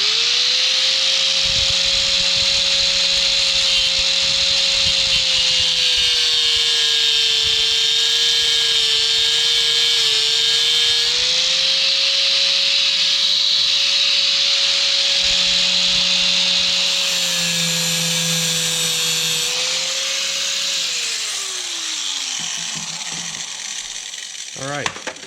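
An angle grinder cuts through metal on a 1974 Honda MT125 Elsinore, a steady high whine holding for about twenty seconds before winding down, with a low hum underneath.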